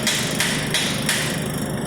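A hammer taps on the clevis of a John Deere 4620 tractor with a 404 engine during piston liner removal in a shop: four sharp, near metallic strikes at uneven intervals over a steady low hum.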